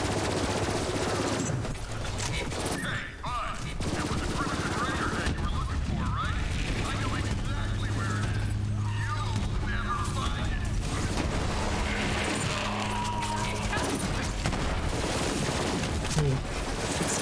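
Dense, continuous battle noise of rapid gunfire and rumbling explosions in the video game Borderlands 3, steady and loud throughout, with a voice now and then underneath.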